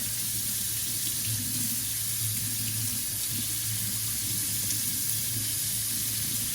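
Tap water runs steadily into a sink while a paint brush is rinsed clean beneath the stream, a continuous close splashing rush with no talking.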